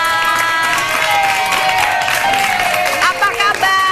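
A television talk-show studio audience claps and cheers loudly to welcome a guest, Dewi Sanca, with a dense crowd roar and voices mixed into the clapping throughout.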